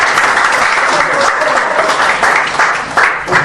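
Wedding guests applaud steadily at a ceremony, a dense, sustained wash of clapping filling the room for the whole stretch, with a few louder swells and some voices mixed in beneath.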